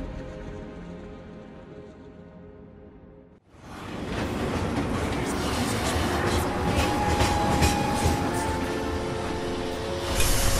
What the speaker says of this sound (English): Like this train, I suppose. There's only one way it can go.